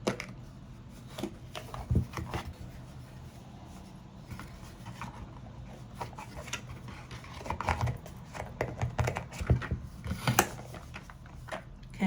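Tarot cards handled and laid out on a table, with scattered soft slaps, slides and shuffling rustles coming in irregular bursts close by over quiet room noise, growing busier toward the end.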